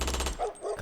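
Rapid machine-gun fire rattles in a quick, close burst of repeated shots in an occult audio drama, then cuts off into a muffled pause.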